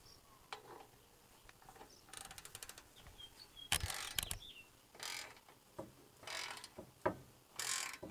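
A ratchet wrench with a 19 mm socket is cranked clockwise to expand the end of a muffler pipe on a Honda Integra. Repeated bursts of close, loud ratcheting clicks come in uneven runs over about eight seconds, with no talking.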